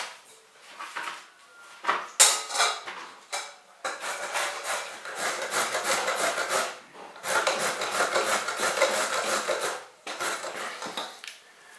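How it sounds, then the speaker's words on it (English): Carrots are rubbed hard across a grater in long, rasping strokes, several sustained scraping bursts separated by short pauses, close and fairly loud with faint knocks between. "The first step is to grate the carrots."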